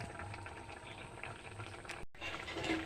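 A pot of sweet syrup bubbles steadily on the stove, a continuous close simmering burble with small pops, alone without voices.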